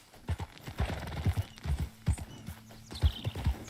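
Horse hooves clip-clopping in the video game Red Dead Redemption 2, a white horse walking in an irregular rhythm of close, distinct thuds, with a brief whinny-like sound near the end.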